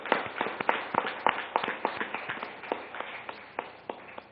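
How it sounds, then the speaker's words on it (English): Scattered handclaps from a conference audience honouring selected companies, sharp individual claps at an uneven rhythm that thin out toward the end, with no talk over them. "So let's give a round of applause to all the elected companies."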